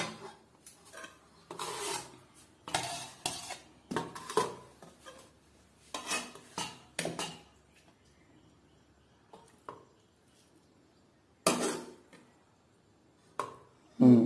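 Tamil home kitchen serving kuzhambu gravy from a pot: a series of sharp metallic clinks and scrapes of ladle against pots and plates in irregular bursts, close by, with quiet gaps between.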